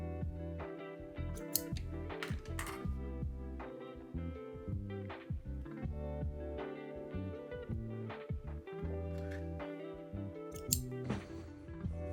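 Sewing scissors snip off excess thread after a skirt dart is stitched: a run of small, crisp close-up cuts and clicks over a steady humming background tone, with no voices.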